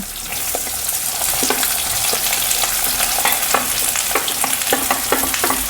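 Onions fry in a pan with a steady loud sizzle, broken by repeated short scraping clicks as a spatula stirs them, with no voices.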